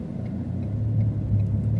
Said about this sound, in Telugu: చాలా ట్రాఫిక్ ఈ టైంలో కూడా.